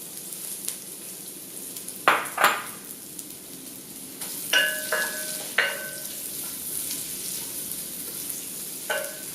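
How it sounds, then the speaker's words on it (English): Red onions with a pinch of cinnamon hit melted coconut oil in a pan, giving a faint, low sizzle broken by a few sharp clinks of a utensil against the pot. "I'm going to be putting in some coconut oil, and while that melts, I'm going to be putting in a pinch of cinnamon, and to that, some red onions"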